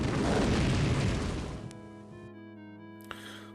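A magical rune explosion in the Death Gate video game bursts out in a loud, roaring boom that fills the first second and a half, then decays into a ringing tonal tail, with a sharp click near the end.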